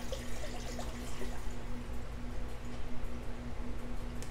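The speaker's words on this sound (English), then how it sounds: "we're going to go ahead and put some distilled water in here" Distilled water pours into a container at a workbench during bare-metal parts stripping. The trickle is soft and continuous, with faint splashes, and no voices.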